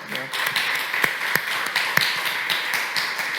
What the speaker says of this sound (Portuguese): Peço uma salva de palmas para o Rui, por favor.